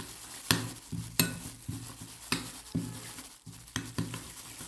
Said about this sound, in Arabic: وراح اقلب المكونات كلها مع بعض لحتى تمتزج كلها بشكل جيد.